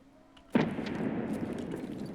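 A single sharp high-powered rifle shot in a video game booms after a quiet moment, then trails into a long rumbling echo that lingers.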